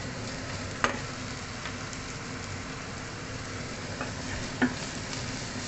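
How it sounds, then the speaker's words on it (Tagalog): Garlic and ginger fry in a hot pan where eggplant has been browning, giving a steady sizzle with stirring and a couple of sharp pops and spatters, nearby and without talk. "Ilagay na natin yung ating garlic at saka ginger, luya at saka ahos,"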